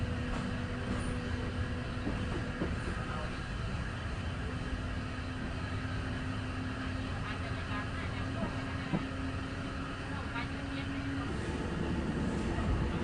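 Steady rumble of a train rolling along the tracks between Bangkok and Hua Hin, Thailand, with a sustained mechanical hum and faint clatter throughout, fairly close and continuous.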